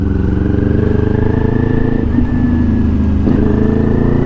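Kawasaki Ninja 400 motorcycle fitted with a LeoVince LV-10 slip-on exhaust rumbles loudly and close in a steady deep drone, with a slight rise in revs partway through and no talking.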